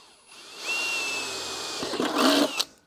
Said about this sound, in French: On va percer.